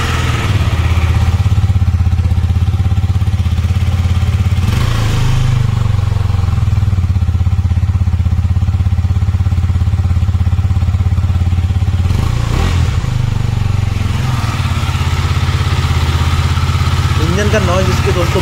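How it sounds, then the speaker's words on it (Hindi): A Husqvarna Vitpilen 250 motorcycle engine running steadily at close range with a low, even idle drone, a couple of brief throttle blips, and no talk over it. "चलिए सबसे पहले हम सुनते हैं बाइक की आवाज़ को।"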